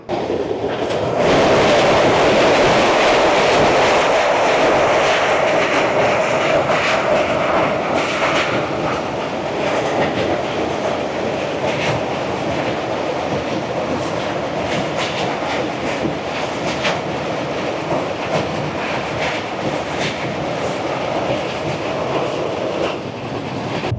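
The Samaleswari Express from Howrah to Jagdalpur runs with a loud, continuous rumble and rattle, broken by rhythmic wheel clicks that persist throughout, with no talking.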